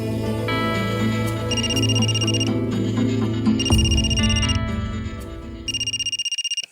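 A telephone rings in a domestic drama scene, sounding in repeated bright electronic bursts over low background music before stopping abruptly.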